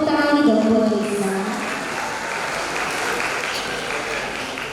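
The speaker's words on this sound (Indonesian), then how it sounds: "Tepuk tangan dong buat Lisa" Audience clapping at a university convocation ceremony for a graduating program, starting strong with a voice or cheer layered on top, then settling into steady, fairly loud applause that continues to the end.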